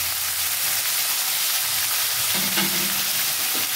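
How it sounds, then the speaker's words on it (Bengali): Potatoes frying in oil for a bottle gourd peel dish, an even crackling sizzle that runs the whole time, with a few stirring clinks and scrapes toward the end, near and without voices. "তো আলুটা জাস্ট একটু ভেজে নেব বন্ধুরা"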